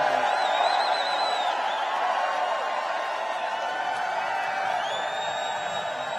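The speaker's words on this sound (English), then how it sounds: "they can actually tell by the cheering" A large crowd at an outdoor political rally in Montoursville, Pennsylvania roars steadily with cheers and whoops, a dense wash of voices holding throughout.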